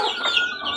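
Several young McLean chickens cluck in a short, busy burst of overlapping close calls with no talk.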